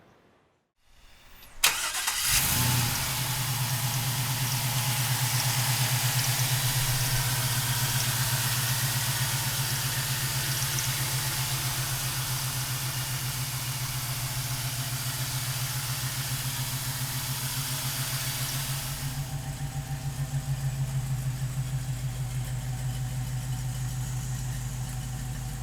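A 1969 Chevrolet Camaro restomod with an LS1 V8 cranks briefly and fires up, then settles into a loud, steady, burbling idle that holds close by for over twenty seconds, with no voices.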